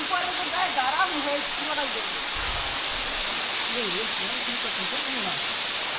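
Water falls down a forested hillside in Bangladesh, a steady broadband rush that runs under people talking nearby throughout.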